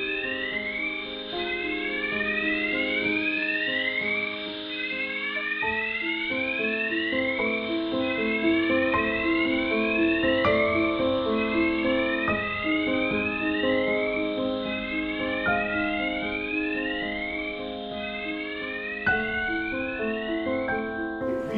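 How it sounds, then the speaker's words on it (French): An industrial alarm at the Florange blast furnace plays a continuous, loud, repeating electronic tone pattern of rising sweeps and stepped tones, sounding on and on without pause and with no voices. "comment ne pas être saisi par cette alarme qui surgit comme un cri et sonne des heures durant"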